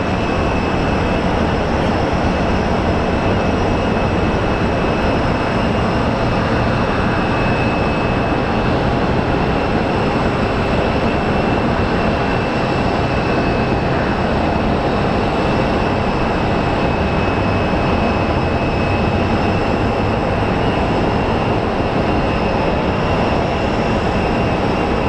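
A SkyWest airliner arriving at Phoenix Sky Harbor airport, heard as a loud, steady broadband roar with a constant high whine that holds through the whole stretch, without talk.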